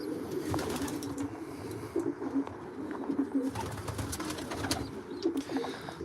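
Racing pigeons coo inside a loft, repeated low throaty calls rising and falling in irregular bursts, close by, with some faint rustling in between.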